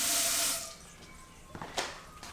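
Tap water gushing into a sink in a kitchen, a loud steady hiss that cuts off after about half a second, followed by faint drips and small splashes.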